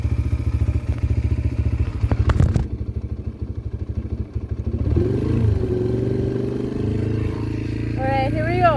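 A Yamaha TTR 125 LE dirt bike engine runs nearby with a steady, rapid thumping idle that rises into a smoother drone, with a clattering knock partway through and a voice speaking over the engine.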